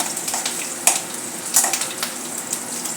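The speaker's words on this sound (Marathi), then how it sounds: "हिरवी मिरची पण चांगली भाजेपर्यंत, सुकेपर्यंत आपल्याला तळायची आहे." Green chillies frying in hot oil give a steady, close sizzle with occasional sharper crackles and pops, no voices over it.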